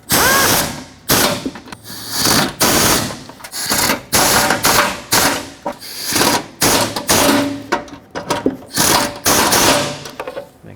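Ratchet wrench tightening the front bumper bolts on a 2009-2014 Ford F-150, a rapid, loud clicking that comes in repeated bursts of about a second each, separated by short pauses, close up with no talking.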